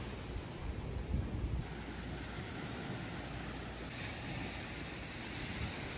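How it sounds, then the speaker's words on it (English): Surf washes onto the white sand beach at Puerto Galera in the Philippines as a steady, broad rush of waves mixed with wind buffeting the microphone. No voices are heard. "this Puerto Galera beach, as you can see, beautiful white sand beach"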